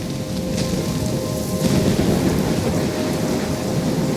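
A heavy thunderstorm in Life is Strange: dense, loud rain hiss pours without a break, and deep rolling thunder swells partway through. Nobody speaks.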